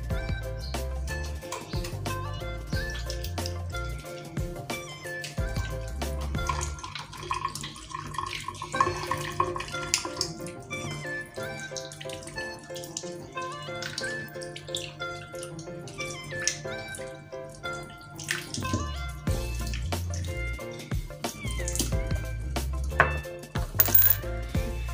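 Water runs and splashes from a kitchen tap while a small lid is rinsed and cleaned, with clinks, drips and shifting flow throughout, close and moderately loud.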